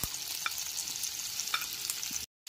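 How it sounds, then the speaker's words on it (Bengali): Minced garlic and ginger fry in hot oil, a dense close sizzle with a couple of light scraping stirs, cutting off abruptly near the end. "আদা রসুনটাকে 1 মিনিট ধরে ভেজে নিতে হবে।"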